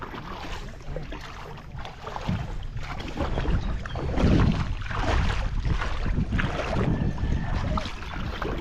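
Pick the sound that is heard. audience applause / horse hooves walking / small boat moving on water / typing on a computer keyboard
small boat moving on water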